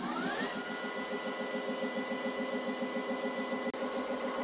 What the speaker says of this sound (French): Je lance ici le cycle d'auto-nettoyage de l'appareil. Il commence par humidifier les rouleaux, puis les fait tourner à grande vitesse.